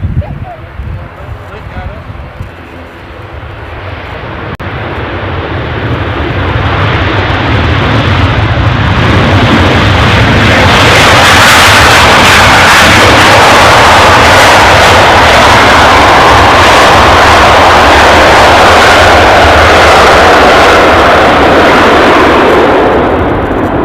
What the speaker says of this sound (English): hopefully you can hear the ATR 72 now with a bit more clarity